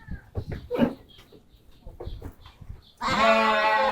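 Goats and sheep bleat loudly together in a small goat shed, a dense chorus rising abruptly near the end after a stretch of quieter speech and scattered calls.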